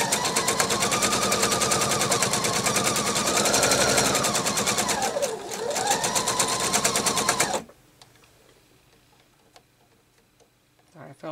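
A sewing machine runs steadily for about seven seconds while stitching fabric for a sewing machine cover, its rapid needle chatter loud and close before stopping abruptly, leaving only quiet room tone and faint handling clicks.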